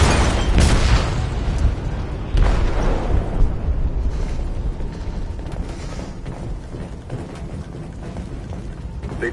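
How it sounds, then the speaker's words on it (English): A bomb detonates in a ship's hold in the video game Detroit: Become Human, a loud rumbling boom with sharp bursts near the start, followed by a sustained low roar of rumble and debris that slowly fades. "They detonated an explosive in the hold."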